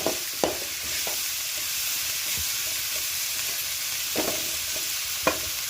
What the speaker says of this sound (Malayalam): നമ്മുടെ ഉള്ളിയെല്ലാം വഴന്ന് വന്നിട്ടുണ്ട് കേട്ടോ